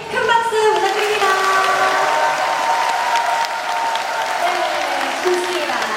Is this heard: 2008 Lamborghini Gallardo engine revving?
no